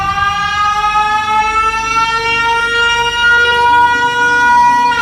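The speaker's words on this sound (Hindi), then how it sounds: "वो लाल बटन दबा देता है, जिससे एक तेज सायरन की आवाज आती है।" A loud electronic siren set off by pressing a red button in a cartoon horror story wails continuously and steadily on one rising tone, with no other sounds.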